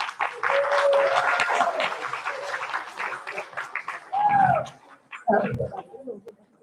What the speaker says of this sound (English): One last round of applause for these girls, please.